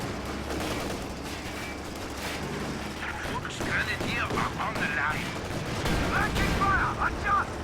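Weapons fire from bazookas in a Company of Heroes 2 match, with repeated sharp shots and blasts amid ongoing battle noise, heard under a commentator's talk.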